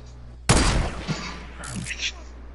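Hand cannon fire in the Fortnite video game, one loud, close, sharp blast followed by a few softer, trailing shots and impacts over about two seconds.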